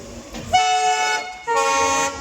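Two loud, sustained blasts from the horn of the Humsafar Express as it pulls out on the Jammu to Sealdah run, the second after a short gap.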